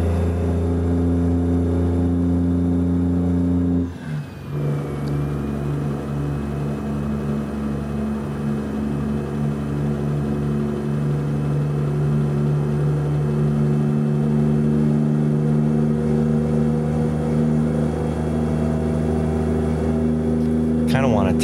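A manual truck in American Truck Simulator on an Alaska route drones with a steady low engine hum, briefly dipping as a gear shift interrupts it about four seconds in, then holding a constant note.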